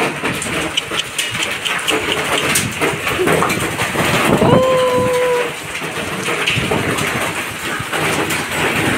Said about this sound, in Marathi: गारांचा पाऊस